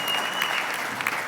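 Brief burst of audience applause at a roast for former Seahawks quarterback Dave Krieg, dense clapping from a crowd lasting about a second.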